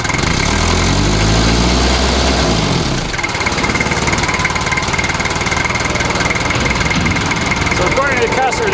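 A diesel engine in an '88 Toyota Land Cruiser runs close by, starting with a low steady drone, then settling into a rough, uneven idle with a lumpy, pulsing rhythm.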